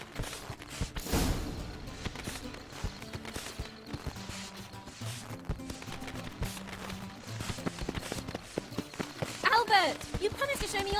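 Horse hooves clip-clop steadily in The Witcher 3, with rhythmic footfalls running under spoken dialogue and background music.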